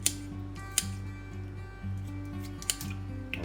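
A knife cuts the top and bottom off a white daikon radish on a board, giving a few sharp crisp chops spaced apart, close and fairly quiet over a steady low background hum.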